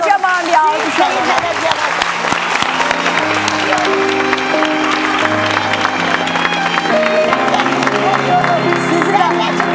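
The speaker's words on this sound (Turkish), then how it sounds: "Çok kocaman bir alkış alın." Applause with crowd noise, mixed with music and voices, loud and steady for the whole stretch.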